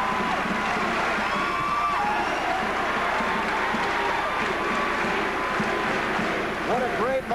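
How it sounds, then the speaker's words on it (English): A basketball crowd at a Wilkes University college game rises in a standing ovation, a loud, sustained roar of applause and cheering that fills the gym, with whistles and shouts rising near the end. "Let's listen to the ovation."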